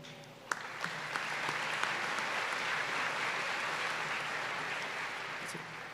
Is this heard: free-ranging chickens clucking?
no